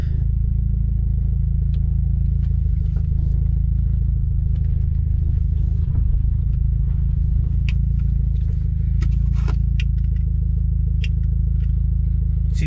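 A 2016 Subaru WRX fitted with a Remark axle-back exhaust is heard from inside while driving: a steady, heavy low rumble with light rattles and scrapes on top, no talking.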